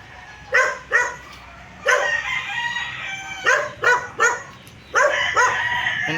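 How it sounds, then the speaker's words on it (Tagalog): Chickens and roosters on a farm, with several loud, close crowing calls and clucks in bursts, a few overlapping one another, and brief quieter gaps between them. "Yan maraming manok dyan."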